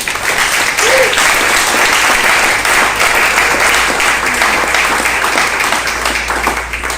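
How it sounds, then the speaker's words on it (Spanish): A church congregation gives loud, sustained applause throughout, the dense clapping steady and close with faint voices mixed into the crowd. "Den un fuerte aplauso al Señor."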